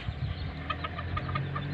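Bantam chickens clucking softly in a backyard coop, a run of short repeated clucks over a low steady background, fairly close and alone.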